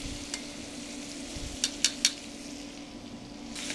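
Meat frying with garlic flakes in a pan, a steady low sizzle under faint stirring, with a few sharp utensil scrapes and clicks against the pan.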